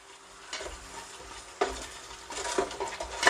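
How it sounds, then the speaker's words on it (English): Coconut milk goes into a hot pan for beef massaman curry and is stirred, giving a soft sizzle with scraping stir strokes that swell at intervals, close and alone. "I'm going to add around about 100 ml of the coconut milk. So just put that into the pan."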